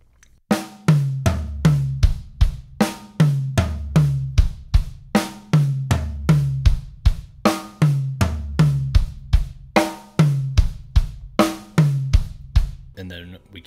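A drum kit plays a slow chop pattern in 4/4, with strong kick and snare hits in a steady repeating groove and cymbal and tom strokes in between, loud and close with no talking.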